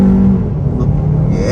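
A 2024 Hyundai Kona N-Line pulls away in first gear under throttle, a close, steady engine rumble with a rising hum over a short burst.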